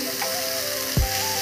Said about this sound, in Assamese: এয়া তাই ঢেকীয়া ভাজি বনাই আছে